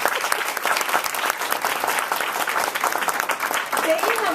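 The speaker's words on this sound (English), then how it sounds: "we need to give them an incredible round of applause" Loud, sustained applause from a large audience at a Chicago youth homelessness campaign launch, a thick steady roar of clapping that carries on without a break.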